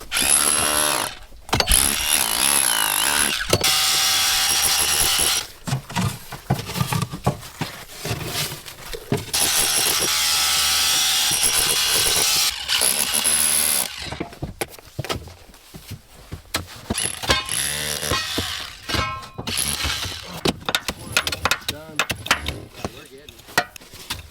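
A rotary hammer chisels ice out of a vehicle's tracks in the Arctic, with long bursts of loud rattling hammering broken by short pauses, then shorter choppy bursts toward the end, with clanks and scrapes between.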